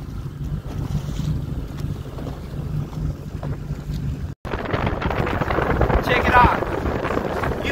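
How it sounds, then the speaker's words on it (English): A boat moves across open water in heavy wind, with strong buffeting wind noise on the microphone and the rushing hiss of water and waves throughout, growing louder partway through. "Let me stop the boat."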